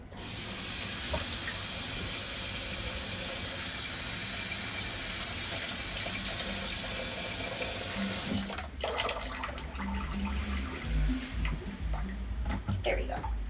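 Tap water pours steadily into a bowl of potatoes in a kitchen, a loud continuous splashing rush that stops after about eight seconds, followed by lighter clinks and handling noises while a person talks.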